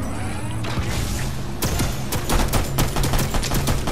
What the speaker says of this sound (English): It just started blasting.